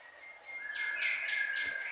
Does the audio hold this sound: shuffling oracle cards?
no